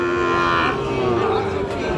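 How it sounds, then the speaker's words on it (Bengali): A Sahiwal cow lows in one long, loud moo close by at Raniganj cattle market, with faint crowd noise behind it. "এই পাশে আরও একটা অসাধারণ গরু দেখতেছি"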